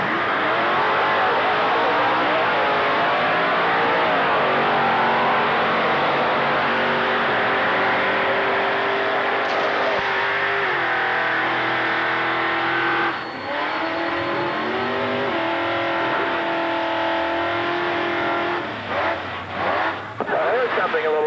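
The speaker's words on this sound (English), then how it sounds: "This rear-engine rail is a 1979 make, and it's powered by a 426 Chrysler Wedge engine," A 1979 rear-engine drag racing rail powered by a 426 Chrysler Wedge engine, with a Vega panel body, runs in top eliminator at a raceway; a loud, steady engine roar fills the whole stretch with shifting harmonic tones, while a voice talks over it.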